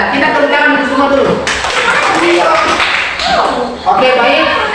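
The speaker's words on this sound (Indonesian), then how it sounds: "Kita tepuk tangan untuk semua dulu." A classroom of students breaks into rhythmic group clapping, loud and close, with voices talking over the applause and a short dip in the middle before the clapping picks up again.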